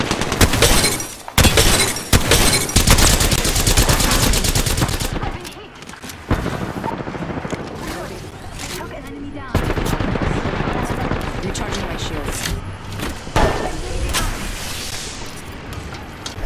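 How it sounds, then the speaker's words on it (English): Rapid automatic gunfire and bursts of shots from an Apex Legends match fill the stretch, loud and dense with a few sharp breaks and gaps, while faint voices occasionally sit underneath. "They're shooting at me."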